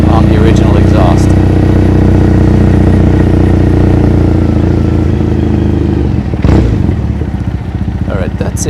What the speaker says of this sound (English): Stock exhaust just so weaselly sounding compared to this.